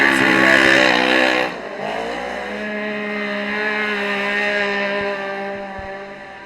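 Side-by-side off-road race cars in an outlaw SXS series round in Texas, loud engines revving close by, one roaring past and fading at the start, followed by a steadier, higher engine whine from others circling the track.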